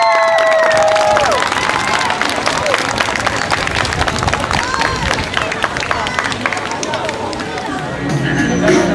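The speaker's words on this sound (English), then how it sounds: "Big round of applause." Audience at a school band show at Universal Studios cheers and applauds a junior high band, a steady loud crowd roar with clapping and shouts, with some music or tonal sounds early on.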